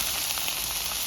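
Broccoli frying in a pan over high flame for a Bengali-style broccoli curry, giving a steady, soft sizzling hiss for about a second with no talk.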